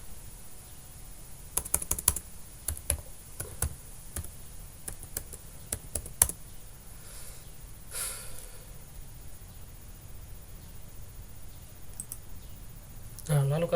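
Computer keyboard keys being pressed to type a password into Linux Lite: a fast, irregular run of close, crisp clicks and taps, densest early on, then sparser keystrokes over a quiet room background.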